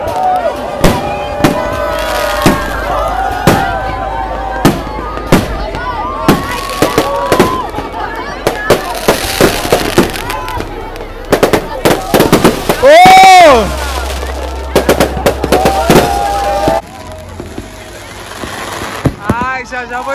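New Year's Eve fireworks burst over the Jurerê Internacional beach party in Florianópolis, a dense run of sharp cracks, whistles and booming pops near and far, while a crowd cheers and people talk throughout.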